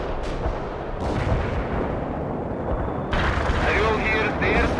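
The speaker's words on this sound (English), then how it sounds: "The artillery strike was off the mark." Artillery strike explosions in the military strategy game World in Conflict, dense rumbling booms and blasts rolling continuously, with radio-style voices talking over the barrage.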